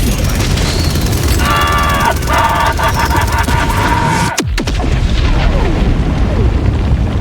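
A game explosion in Helldivers 2 hits as a deep, loud boom with a rumbling tail over continuous battlefield noise, preceded by a brief buzzing tonal sound.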